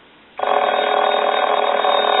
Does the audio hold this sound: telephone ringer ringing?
yes